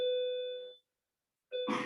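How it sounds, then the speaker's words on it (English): A school lunch bell rings in a classroom, a clear electronic chime that sounds once, fades into silence, then starts again at the end with other room noise. "a lunch bell."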